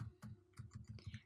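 Someone types on a computer keyboard nearby, a quick run of soft clicking keystrokes in an irregular rhythm, quiet and with no talking.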